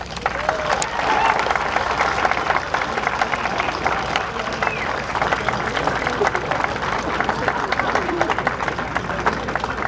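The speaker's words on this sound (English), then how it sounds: "The class will now extend a round of applause as a gesture of thanks." Graduating high school class applauding together at a commencement ceremony, a steady, dense clapping from a large crowd that holds evenly for around ten seconds in a big hall.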